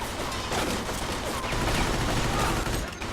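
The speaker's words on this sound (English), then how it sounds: "The old Tommy gun. Beautiful." A Tommy gun in the video game Mafia 2 fires in rapid sustained bursts, a dense rattling fusillade of shots that runs nearly continuously for about three seconds, loud and close.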